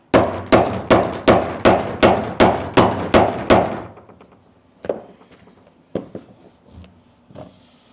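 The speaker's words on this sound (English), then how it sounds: "This is exactly why people don't like pop rivets." Pop rivets being set while fitting a kayak seat: a rapid run of about nine sharp, loud, evenly spaced snapping clacks, then quieter scattered clicks and knocks as the rivet tool is handled.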